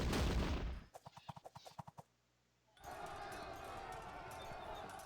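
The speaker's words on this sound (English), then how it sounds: "Cannon fire is great for disrupting cavalry." Cannon fire in a Sengoku-era battle video game rings out as a rapid ragged volley of about ten booming shots, then a brief lull before a dense roar of battle noise resumes.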